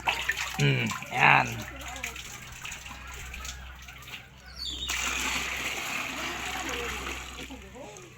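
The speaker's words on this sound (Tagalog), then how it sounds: "Magsasalok muna ako ng tubig dito." Water is scooped and poured at a village well in Kawit, Manito, Albay. Early splashes are followed by a steady stream of pouring water, with a voice speaking briefly at the start.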